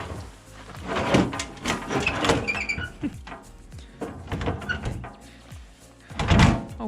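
The worn door of a bus under restoration is worked open and shut, a close series of heavy thuds, clunks and rattles spread unevenly across the stretch, with one loud bang near the end and no speech.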